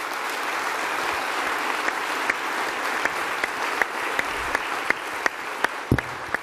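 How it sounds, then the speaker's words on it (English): Sustained crowd applause at the final UCP of Alberta leadership debate, a dense wash of clapping that thins toward the end, leaving a handful of distinct, louder individual claps. "Give them another round of applause."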